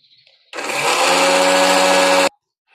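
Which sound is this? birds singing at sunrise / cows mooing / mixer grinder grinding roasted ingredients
mixer grinder grinding roasted ingredients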